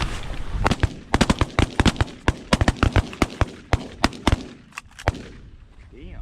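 Shotgun blasts ring out at geese during a Texas goose hunt, a rapid volley of many sharp, near shots, some clustered tightly together, with a brief pause before the final few.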